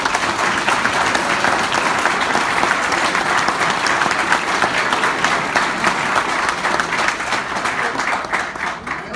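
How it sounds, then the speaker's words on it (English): Audience applauding at a judge's retirement speech, sustained dense clapping throughout that thins slightly toward the end, with faint crowd murmur beneath. "Please give a round of applause for the superstars."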